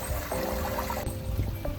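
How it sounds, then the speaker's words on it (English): Steady trickling and pouring water runs over a homemade waterfall spillway in a backyard water feature, a continuous close splash with faint low rumbling beneath and no talk. "not too shabby for a homemade water feature"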